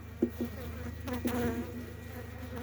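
Honeybees from a weak split colony buzz at an opened hive, a low steady drone with a few louder buzzes passing close by, quiet and without talk.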